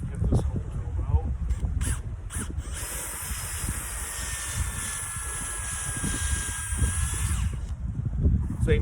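A power drill bores a tapping hole into a maple tree, its steady high whine running for several seconds over rustling outdoor background noise and handling sounds.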